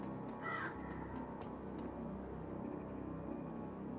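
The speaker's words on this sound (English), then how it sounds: "Oh, I like that with the crows." Crows cawing in the video game Shadowrun Returns, a few brief rasping calls early on over a steady low ambient rumble that carries on alone afterward.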